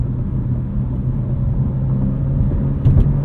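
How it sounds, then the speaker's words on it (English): A 2023 BMW M2 with the S58 engine and six-speed manual cruises on a highway, its exhaust giving a steady low burble and droning rumble, with a brief louder surge near the end. "with our dashboard rattling, our exhaust burbling, our S58 purring along like a sewing machine"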